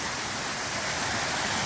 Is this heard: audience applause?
no